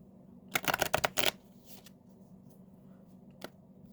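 Angel cards being shuffled by hand, a quick burst of crisp riffling flutters over about a second, then quiet with a single soft card tap afterward, close and fairly faint.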